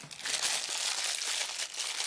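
Thin plastic coin bag crinkling as a collectible coin is tucked away, a continuous close rustle with sharp crackles for about two seconds and no talking.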